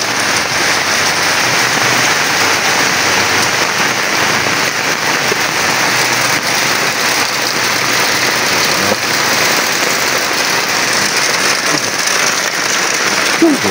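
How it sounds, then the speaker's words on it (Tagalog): Heavy downpour pounding onto a yard beside a fish pond, a loud, dense and unbroken roar of rain close by that holds steady from start to finish. "lakas ang ulan"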